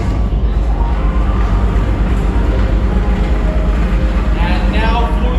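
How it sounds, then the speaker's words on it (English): Mine conveyor belts start up and run with a loud, steady rumbling mechanical drone throughout, heavy in the low end, with faint voices in the background. "Let's start the conveyor belts."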